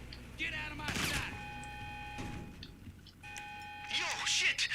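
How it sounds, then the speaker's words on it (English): In the GTA 5 Online game, during a salvage yard robbery, a steady electronic alarm tone blares repeatedly in pulses while gunfire-like bursts sound and someone talks over it. "Is that the alarm already?"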